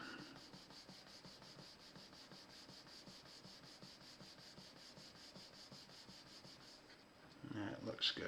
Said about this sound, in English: then I'll rub it flat